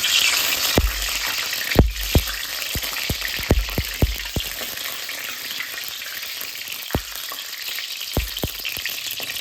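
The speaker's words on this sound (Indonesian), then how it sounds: "Sebelum kita menumis bumbunya, kita goreng telur dulu." An egg fries in hot oil before the spices go in, giving a steady broadband sizzle with sharp pops and crackles clustered early, then scattered later, close and fairly loud with no talking.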